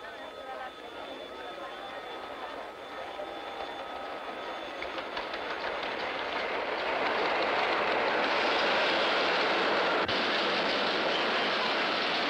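A train passes with a rushing rumble and rhythmic clatter of wheels on rails. The noise swells steadily louder as it draws near and stays dense to the end.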